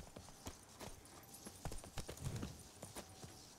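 Horse hooves clip-clopping in The Witcher 3, a steady run of soft thuds at moderate distance with game ambience behind them.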